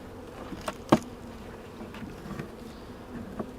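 A low, continuous buzz of many honeybees at a hive hums close by, with a few soft knocks and bumps over it and no voices.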